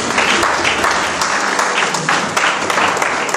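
A church congregation applauds for the Lord with dense, loud, continuous clapping that holds steady throughout.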